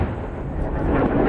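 Airstrike explosions over Marawi city in the Philippines rumble as a deep, loud, sustained boom, alone without talk.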